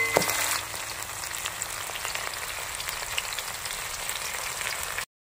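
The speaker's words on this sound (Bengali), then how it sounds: "মাছটা আমার হালকা ভাজা হয়ে গেছে" Hilsa fish fries in a pan for a mustard hilsa dish, giving a steady close sizzle and crackle throughout after a brief louder clatter at the start.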